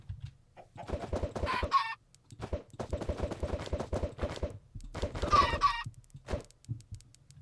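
Minecraft chickens clucking in rapid bursts, several overlapping calls in short clusters with brief pauses between, loud and close.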